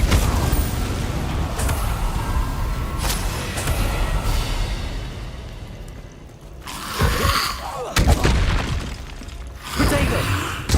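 An Incendio fire spell bursts out in Hogwarts Legacy with rumbling, crackling whooshes over a busy game soundscape, while a voice speaks through part of it.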